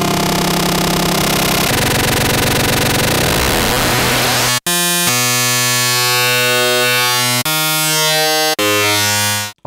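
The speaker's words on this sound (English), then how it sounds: "And then wave folding." An Arturia Pigments wavetable synthesizer with heavy wave folding plays buzzy, harmonically dense sustained tones that shift timbre in several distinct sections, loud and upfront with brief gaps between them.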